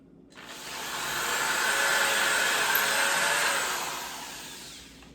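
Towallmark 7-amp 850W half-inch corded hammer drill boring through a piece of wood, a close steady whine that swells up, holds for several seconds and tails off.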